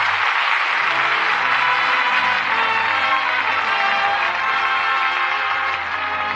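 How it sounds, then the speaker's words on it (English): Radio theatre studio audience applauding at the end of a broadcast drama, a dense steady wash of clapping that stays loud throughout, with no voices over it. "And that applause says it all."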